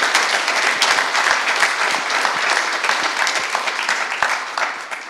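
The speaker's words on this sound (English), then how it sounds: "if we could just give them one last round of applause for our great panel" A conference audience applauds steadily after a panel discussion, a dense, sustained round of clapping.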